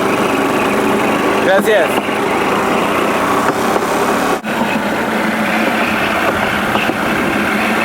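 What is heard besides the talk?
125 motorbike driving on a train track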